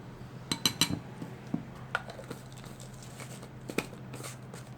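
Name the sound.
spoon adding sugar to dry milk in a bowl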